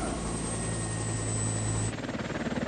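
Boeing Chinook tandem-rotor military transport helicopter, first a steady whining engine and rotor drone, then a loud, rhythmic blade chop pulsing close by.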